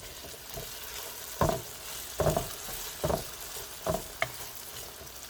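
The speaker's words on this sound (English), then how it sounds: "Okay, so we're gonna cook those up. I have this on a medium flame." Moose sausage patties frying over a medium flame, a steady quiet sizzle broken by several distinct scraping, pressing stirs of a utensil in the pan, no talking.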